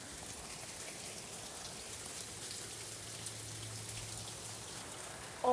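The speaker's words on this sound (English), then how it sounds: "It is raining like crazy outside." Heavy rain pours outside in a constant, dense hiss of drops hitting surfaces, steady and fairly soft throughout, with a brief sharp sound at the very end.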